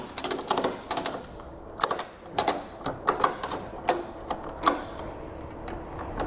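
A ratchet tightens the strap of a Conestoga Rolltite tarp system on a Verduyn Eagle trailer, giving a close run of sharp, repeated clicks in uneven bursts.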